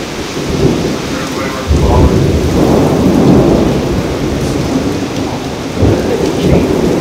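A loud, close thunderstorm: steady heavy rain hisses on surfaces while deep thunder rumbles roll in and swell several times.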